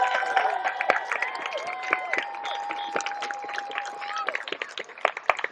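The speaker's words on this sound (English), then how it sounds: "Huge applause for Jenna." A large crowd at a Pride rally claps and cheers steadily, with scattered whoops and whistles rising over sustained applause.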